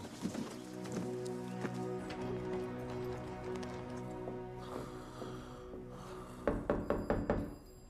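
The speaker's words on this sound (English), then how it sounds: "Let's unhook the horse." Hooves clop in a quick run of sharp knocks near the end, following a sustained droning tone with scattered bumps and clatter.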